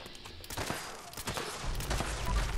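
An anti-armor explosive assault rifle in Fallout 76 fires a rapid string of sharp, close shots, with bursts clustered together and a rumbling low-end buildup toward the end; no speech.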